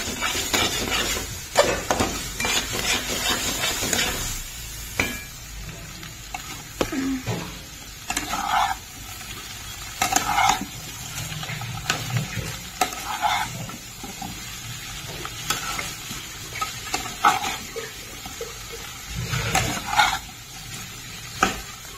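Spice masala fries in a pan for Kashmiri dum aloo at home, a low sizzle under repeated scraping and clanking stirs of a spoon against the pot, coming in irregular bursts.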